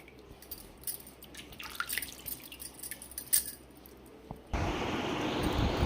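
Mangoes being scrubbed and rinsed by hand in water: soft drips and splashes with faint rubbing, then a steady rush of running tap water takes over near the end, close and moderately loud.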